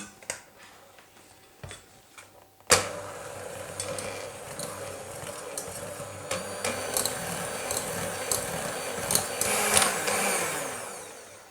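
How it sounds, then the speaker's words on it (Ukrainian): An electric mixer whirs steadily through a dough of cottage cheese and oil, a continuous buzzing drone starting after a few clicks and taps, rising slightly in intensity toward the end, close and alone. "І знову за допомогою міксера все перемішуємо."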